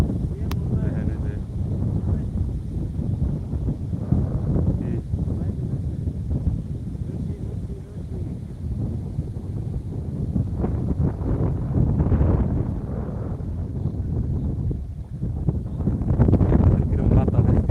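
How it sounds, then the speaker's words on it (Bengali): Strong wind gusts across a riverbank, buffeting the microphone in a continuous low roar that swells and dips throughout. "কিরম বাতাস আজকে, ভয়ঙ্কর বেহানা বাতাস চলে যাইছে"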